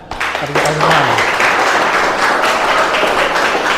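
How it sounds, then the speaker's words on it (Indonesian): A class of seventh-grade students clapping their hands together in a classroom, a loud burst of clapping that holds steady, with a voice briefly heard at the start. "Nah, tepuk tangan."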